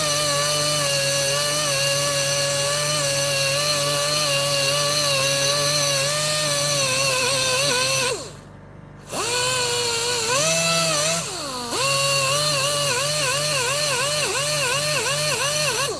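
A polishing wheel works a Honeywell Turbovisor DTVR helmet part in a steady high whine that pulls lower as the part is pressed against it, then cuts out briefly twice before spinning back up; no talking.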